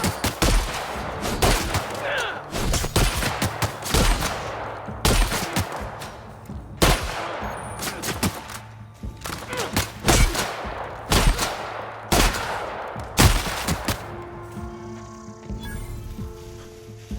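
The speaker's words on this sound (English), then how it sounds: "I want to test out the new shotgun." Shotgun fire in The Outer Worlds, a series of loud, punchy blasts spaced roughly a second or two apart with reload clicks between, continuing for over a dozen shots before fading into quieter ambience.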